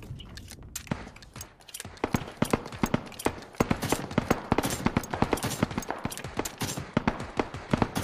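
Rapid pistol gunshots in the video game PUBG, a long string of sharp, evenly spaced cracks that grow louder and denser after the first two seconds, with no talk over them.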